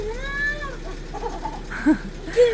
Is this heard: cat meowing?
yes